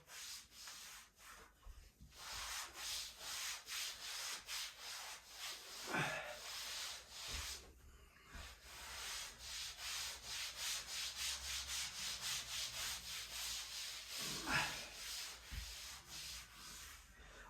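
A wet sponge is wiped over wallpaper on a feature wall in quick, even rubbing strokes that repeat in a steady rhythm, faint and close, with a couple of short pauses.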